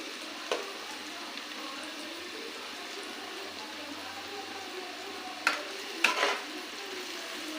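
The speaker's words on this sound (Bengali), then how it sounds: "পেঁয়াজটা বেশ লাল লাল করে ভাজা হয়ে গেছে।" Sliced onions and green chillies frying in a pan for chicken curry give a steady, even sizzle throughout, with a couple of brief clinks near the end.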